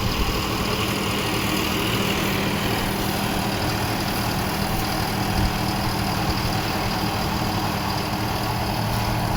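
A John Deere 5405 CRDI tractor engine runs steadily during wheat sowing, a loud, constant low drone with a faint high whine, unbroken throughout and close by, with no talking.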